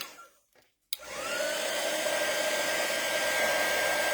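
A hair dryer switches on abruptly and runs with a steady, loud whooshing hum to dry a freshly painted Easter egg, preceded by a few faint handling sounds.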